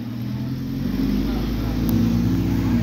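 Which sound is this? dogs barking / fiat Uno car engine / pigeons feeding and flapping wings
fiat Uno car engine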